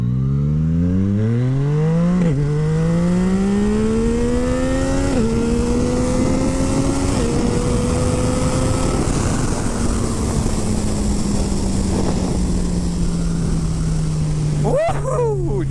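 A Yamaha MT-09 with a full Akrapovic exhaust accelerates hard through several gears, its loud, close engine note climbing and dropping at each upshift before settling into a steady cruise over rushing wind.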